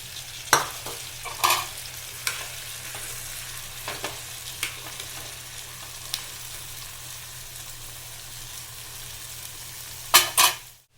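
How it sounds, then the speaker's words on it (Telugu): Potatoes frying in a pan with a steady, soft sizzle throughout, broken by a few sharp scrapes and knocks of a spoon stirring them against the pan, close by and alone. "కొంచెం ఫ్రై అయిన తర్వాత ఆలు యాడ్ చేసుకున్నాం."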